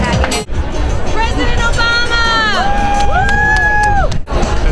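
A partisan crowd at a presidential appearance in Tarrytown, New York, cheers and shouts loudly in a dense wash of voices, with whoops and sustained calls rising above the roar.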